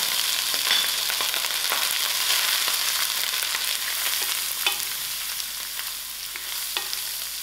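Ginger, garlic and masala spices fry in a pan with a steady, close hiss and sizzle, crackling scattered throughout and an occasional scrape of stirring.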